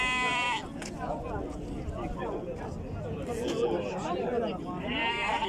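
Sheep bleat repeatedly at a busy livestock market, several wavering calls rising over a constant crowd murmur and nearby talking.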